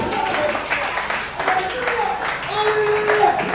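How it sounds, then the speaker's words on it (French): A gathered audience applauds at a church campaign event, steady dense clapping mixed with cheering voices throughout. "Et on peut applaudir très fort."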